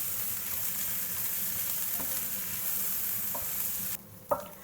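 Grated carrots frying in a pan for a bolognese sauce, a steady loud sizzle that continues throughout, with a few scraping stirs near the end.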